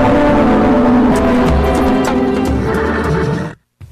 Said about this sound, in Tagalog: Uy, ang kabayo naman lagi ni.